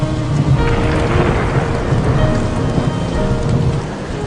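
Heavy rain pours steadily with rolling thunder, a dense, loud and continuous wash of noise with no voices.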